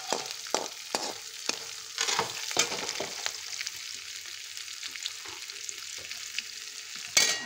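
Green chilli pieces fry in a pan with a soft, steady sizzle, stirred by a spoon that gives a series of scraping strokes and light clacks, quiet and close with no talk.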